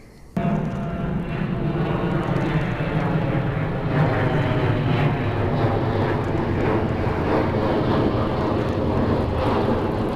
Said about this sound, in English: There must be an airport like right over that hill because there's big jets.